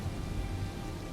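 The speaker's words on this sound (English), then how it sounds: "Only just started raining in the last minute." Steady rain falling in the video game Elder Scrolls Online, a soft continuous hiss with a low rumbling undertone, even and unbroken, with no talking.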